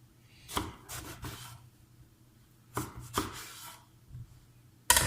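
A knife slices eggplant on a cutting board for Moroccan zaalouk, giving a few soft, quiet cuts in small clusters, with a sharper knock at the end.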